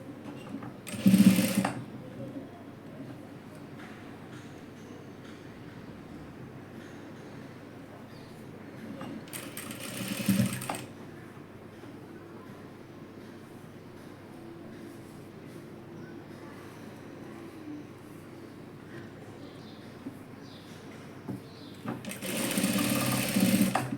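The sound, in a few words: sewing machine stitching fabric for a dress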